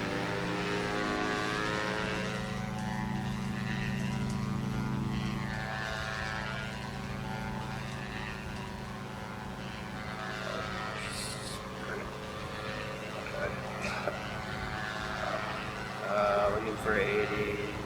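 In the X-Plane 11 flight simulator, an aircraft engine drones steadily through the takeoff roll, moderately loud and constant, while someone talks over it.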